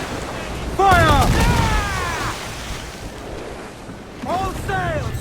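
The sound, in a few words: ship cannons firing, from video game Assassin's Creed Black Flag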